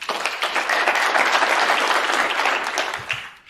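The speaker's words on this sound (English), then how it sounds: "it was a round of applause" A snooker audience breaks into a sustained round of applause after a shot, a dense, even wash of clapping that holds steady before tapering away at the end.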